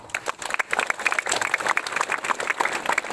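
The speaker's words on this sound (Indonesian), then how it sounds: "Tepuk tangan untuk kita semua" School ceremony crowd of teachers and students clapping, a short burst of scattered, uneven handclaps at moderate distance.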